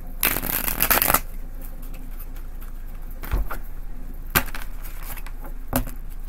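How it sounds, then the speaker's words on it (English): Tarot cards shuffled by hand: a long, loud riffling burst at the start, then several short, crisp flutters spaced a second or two apart, with no talking. "Let's get a couple shuffles."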